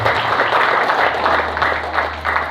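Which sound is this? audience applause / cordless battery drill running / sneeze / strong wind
audience applause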